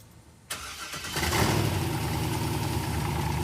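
A Corvette engine fitted with a new transmission cranks and fires after a short quiet stretch, then settles into a loud, steady idle with a low rumble.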